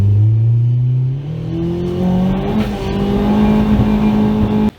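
A Nissan Juke on a hard boost pull with a Go Fast tune and smoking tires, its engine loud and close with rising revs climbing through gears, a strained mechanical drone without talk.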